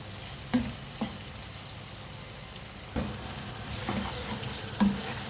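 Chopped garlic and ginger frying in a pan, with a continuous close sizzle and a few sharp spatula taps and scrapes spaced through it.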